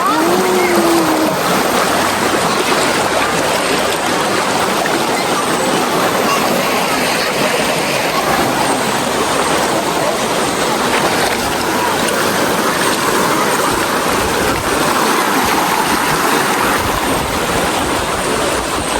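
A clear provincial river flows in a loud, steady broadband rush of water, constant throughout with no break, and a voice briefly audible beneath it.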